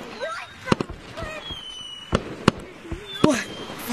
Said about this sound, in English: Nice looking fireworks.